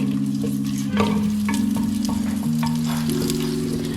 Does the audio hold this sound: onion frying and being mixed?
yes